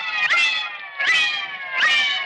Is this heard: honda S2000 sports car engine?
no